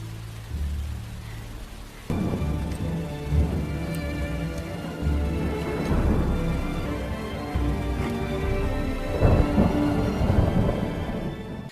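Heavy rain pours steadily through a dark night scene in a ninja assassin film, with deep rolling thunder rumbling beneath the downpour and swelling in loud bursts.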